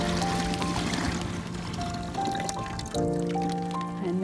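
Maple sap pours from an opened bag into a bucket in a backyard, a continuous trickling, gurgling stream with steady tonal hums beneath it, close and fairly loud.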